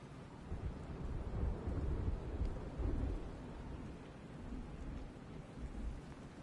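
Steady rain and low rolling thunder in the Batman: Arkham Knight game, a continuous wash of downpour with deep rumbles swelling and fading throughout, no voices present.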